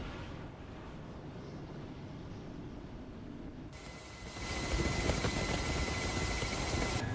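A helicopter during a Russian Pacific Fleet naval exercise in the Sea of Japan, a steady distant rotor drone under wind that grows louder and harsher midway through.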